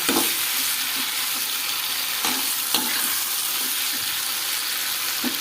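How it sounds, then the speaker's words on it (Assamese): Potatoes and pointed gourd fry with spices in a pan, giving a steady, close hiss and sizzle with occasional soft stirring scrapes and clinks. "আৰু এতিয়া মছলাখিনি লগত পটল আলুখিনি ভজা হৈ গ'ল"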